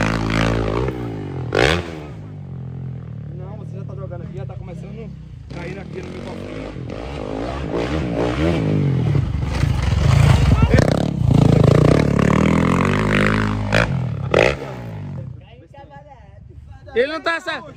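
Yamaha YZ-450 dirt bike ridden nearby, its engine droning and revving steadily throughout with rising and falling pitch, mixed with clatter, while people talk over it.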